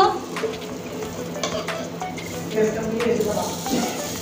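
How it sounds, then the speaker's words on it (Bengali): Spiced katla fish fries in a pan on low heat, a steady soft sizzle with occasional scraping and stirring clatter of utensils, while a voice speaks over it at times. "তাহলে শুধু দেখুন একদম কম আঁচে করে ভাজতেছি"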